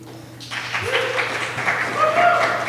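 Applause from a conference audience at GUADEC 2024 starts after a brief quiet moment and builds to a steady, moderately loud patter of clapping, with faint voices mixed in.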